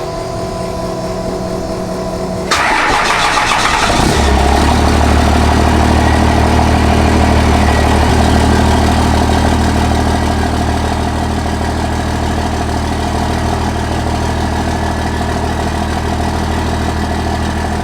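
A Chevrolet square-body military truck engine cranks briefly, catches and roars to life, then settles into a loud, steady low-pitched idle that continues for a long stretch.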